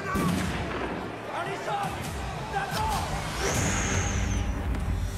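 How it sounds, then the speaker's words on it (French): A loud, rumbling blast from the Greenland (2020) movie trailer, with heavy low-end roar and crackling debris, swelling under dramatic sound effects and a rising whine, with voices exclaiming underneath. "C'était quoi cette explosion là?"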